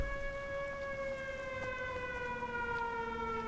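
A steady, sustained wailing civil defense siren in the video game Everybody's Gone To The Rapture, with a slowly falling pitch, droning on continuously with no talk over it.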